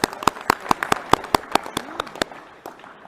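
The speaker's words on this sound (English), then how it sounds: "Let's give them again another hand of applause." An audience at a Marikana massacre commemoration claps in sharp, scattered individual claps at first, thinning out as the applause fades.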